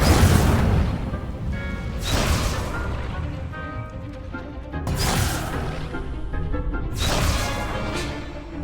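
Fire spells cast in the game Hogwarts Legacy, four loud whooshing bursts at roughly two-second intervals, each flaring up and then trailing off into a low rumble.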